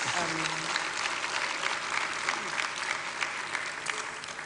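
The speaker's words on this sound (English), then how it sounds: "I think that deserves a round of applause" Applause at a university sports awards ceremony, a full, steady burst of clapping from a large audience lasting several seconds, with voices mixed in beneath.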